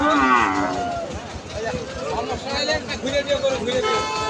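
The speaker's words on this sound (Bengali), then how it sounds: "খুব সুন্দর সাইওয়াল বাচ্চা" Sahiwal cattle at a cattle market give a loud nearby moo, followed by more lowing calls amid crowd babble and people talking close by.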